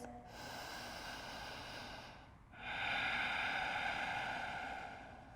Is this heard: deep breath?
yes